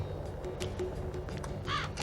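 A crow cawing in the video game Wild Arms 3, a few short harsh calls over a quiet low game ambience, with one brighter, louder caw near the end.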